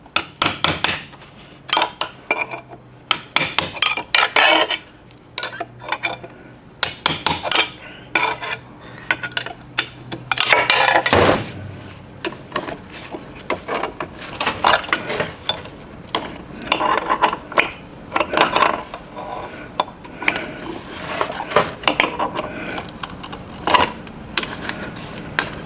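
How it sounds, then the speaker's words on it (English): Metal tools clink, scrape and tap against a melted plastic thrust washer inside a 1994 Dodge Dakota automatic transmission, irregular sharp close clicks and knocks spread throughout, no talking. "I have to break this washer"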